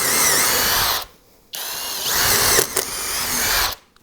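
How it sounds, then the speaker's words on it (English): A power drill bores holes through thick metal with a quarter-inch bit, its loud steady whine broken by two short pauses, ending with a brief stop before restarting. "Still plenty of holes to be drilled with this 1/4 inch by 1/4 inch drill bit."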